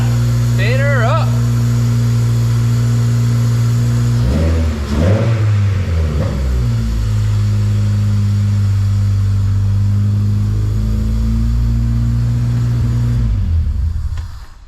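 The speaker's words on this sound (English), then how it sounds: "Just like that, Butch got us a running car, y'all." A K-swapped Honda EG runs with a loud, close, steady idle and climbs into a few quick revs about midway before settling back to idle. Voices come in briefly over the engine.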